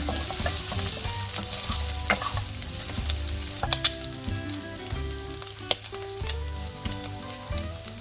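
Pork stir-frying in an oiled pan for a stir-fry with shrimp paste and long beans sizzles steadily up close, broken by scattered sharp clinks and scrapes of the spatula, with no voices.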